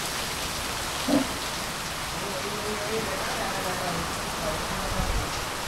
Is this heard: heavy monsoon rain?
yes